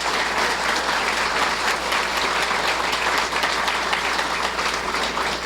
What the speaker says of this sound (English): And I would like some applause.